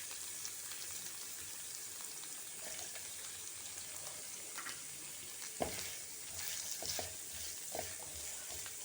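Onion, green chillies and coriander stems sautéing in a pan, a soft continuous sizzle with a few sharper clinks and scrapes of stirring near the end, fairly quiet and with no talking.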